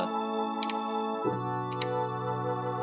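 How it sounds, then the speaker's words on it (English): Sustained gospel-style organ chords from a Nord Stage 3 run through a Leslie cabinet, holding one chord and then shifting to a lower, fuller voicing partway through, steady and close with no voices. "there's this big gospel-y organ section at the beginning, and that is going through the Leslie cab"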